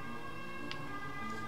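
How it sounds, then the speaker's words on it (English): Faint sirens wail in the distance as a sustained, layered tone under a quiet background, with no speech. "I have the sirens over here."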